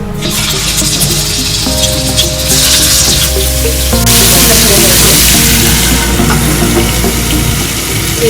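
Chicken pieces for butter chicken fry in butter and oil in a pan, a loud, continuous close sizzle that swells as more pieces go in, with faint background clatter.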